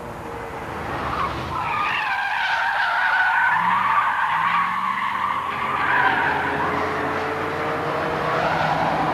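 Rear-wheel-drive, front-engine convertible sports car oversteering, its tyres squealing in a long, loud, wavering skid over a steady engine drone, close by with no talk.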